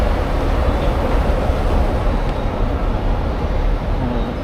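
A Shanghai subway train runs with a steady, loud low rumble and rail noise filling the whole stretch, with no talk.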